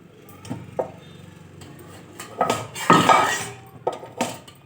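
A spoon stirs freshly cooked kootanchoru, a Tirunelveli-style mixed rice, in a pressure cooker pot, giving irregular metallic clinks and scrapes with a few louder knocks against the pot.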